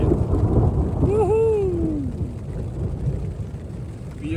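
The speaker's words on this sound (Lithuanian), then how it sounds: "Perkūnija." Thunder from a mountain thunderstorm in California rolls as a low, sustained rumble close by, with rain noise underneath and a brief tonal whine partway through.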